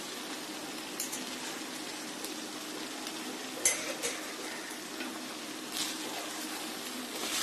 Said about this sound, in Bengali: এখন আমি এই সবজির মধ্যে পাস্তাগুলি দিয়ে দিচ্ছি।